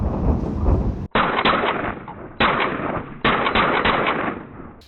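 A PSA MPX-style rifle build fires several loud, sharp gunshots at a range, each a hard crack followed by a long echoing tail, spaced about a second apart.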